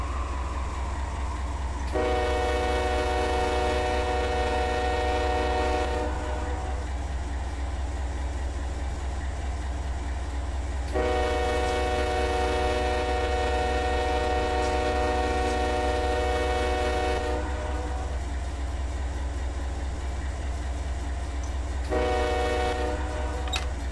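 A CSX intermodal freight train about 9,000 feet long rolls into Waycross, its loud horn sounding two long blasts and then a shorter one over the constant heavy rumble of the moving train.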